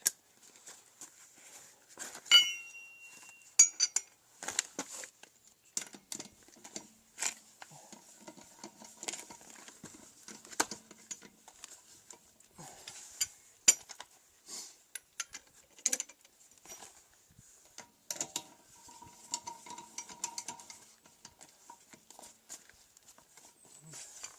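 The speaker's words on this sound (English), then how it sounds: "let's put the lug nuts back in place and see what it looks like" Lug nuts being threaded back onto a car wheel while hub-centric rings are fitted, heard as scattered metallic clicks, ticks and brief ratcheting taps at close range, irregular and fairly quiet, with no talking.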